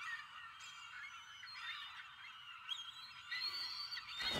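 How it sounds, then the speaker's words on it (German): Seagulls in the King of Seas video game screech and cry continuously at sea, a dense, fairly loud chorus of overlapping calls with no talk. "weil diese Möwen einfach so laut kreischen"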